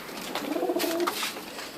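Pigeons cooing close by on a balcony, a few soft throaty burbling calls overlapping in a short burst with no voices.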